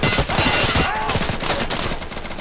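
Dense, rapid bursts of automatic gunfire in the video game Insurgency, loud and close, overlapping in a sustained volley.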